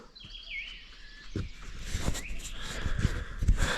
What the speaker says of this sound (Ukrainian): Співають пташки, вітру нема.